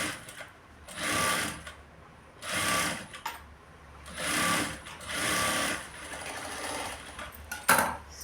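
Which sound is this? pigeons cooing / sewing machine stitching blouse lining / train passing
sewing machine stitching blouse lining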